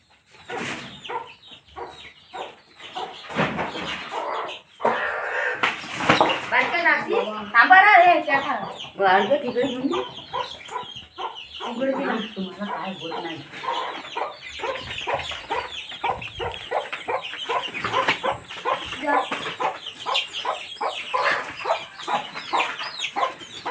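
Several chickens cluck and squawk nearby in busy, irregular bursts, with someone talking over them outdoors.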